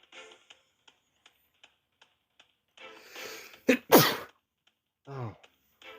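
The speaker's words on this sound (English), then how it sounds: "Sorry, I sneezed." A single sharp sneeze bursts out close by after a quick breathy intake. A steady faint clock-like ticking runs in the background, followed by a short vocal sound.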